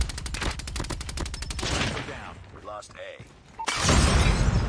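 Rapid automatic gunfire from a fast-firing weapon in the shooter game COD Mobile, close and loud bursts of shots with a brief lull before another heavy burst, mixed with game sounds and voice.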